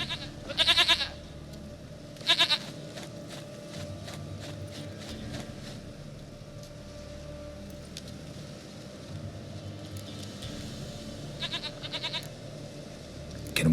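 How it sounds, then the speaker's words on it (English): Goat bleating in The Witcher 3 game, a few short wavering bleats near the start and again later over a steady low ambient hum, moderately loud and close with no speech. "Goat of mine, dearest, sweetest goat."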